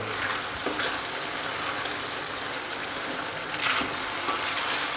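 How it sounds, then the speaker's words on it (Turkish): Spices get stirred into a minced-meat mushroom sauté, the pan sizzling steadily with a soft scrape of stirring now and then, close and alone. "Baharatlarımızı ekledik. Şöyle bir karıştıralım."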